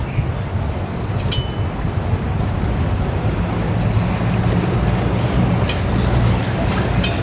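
A large cabin cruiser motors through the channel beneath the Destin Bridge near Crab Island, a steady low rumble of engine and churning wake under constant wind and surf wash, with no clear talk.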